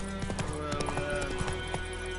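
Roach, the horse in Witcher 3, trots with a steady, rhythmic clip-clop of hooves over a continuous game backdrop, fairly close and moderately loud.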